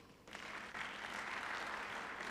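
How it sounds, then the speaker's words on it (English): Applause for a panelist at a conference session on oceans, climate and biodiversity: a short burst of steady clapping from an audience, moderately distant. "A round of applause for him too."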